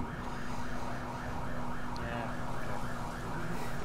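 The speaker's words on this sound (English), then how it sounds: "We got an ambulance coming as well." An ambulance siren wails in a continuous rising-and-falling cycle, moderately distant and steady, heard over a low engine-like hum.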